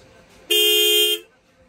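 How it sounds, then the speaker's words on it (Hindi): A single sustained horn blast from a modified TVS Raider 125cc motorcycle, loud and bright with a buzzy tone, lasting under a second before cutting off into quiet. "हॉर्न प्रेस करने एक बार।"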